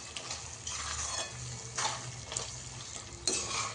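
A spoon stirs capsicum masala curry with kasuri methi in a pan, scraping and shuffling in steady bursts over a soft sizzle, close and fairly quiet.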